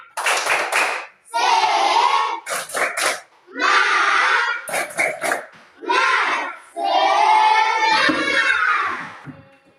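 Children standing in a classroom do a rhythmic spirit clap, bursts of claps in short patterned groups with young voices chanting and shouting between them, loud and close.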